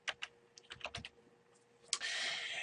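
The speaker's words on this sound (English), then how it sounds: "you can type in whatever you want" Quick, light clicking of keys on a computer keyboard, a short burst of typing close up and fairly quiet, ending in a sudden steady hiss.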